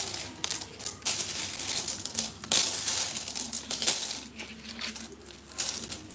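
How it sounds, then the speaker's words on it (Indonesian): Coins pour and tumble out of an opened piggy bank, a dense, continuous metallic clinking and rattling with sharper spikes as clusters land, close by and with no talk. "Yang kecil mah masukin koin begini penuh."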